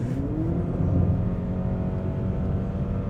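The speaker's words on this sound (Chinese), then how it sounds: "真真假假分不清楚，到底是引擎的声音还是 speakers 的声音。" A Honda CR-V 2.0L e:HEV hybrid engine drones loudly as the car accelerates at speed, a steady rising hum with a climbing tonal whine over road rumble, heard from inside the cabin without talk.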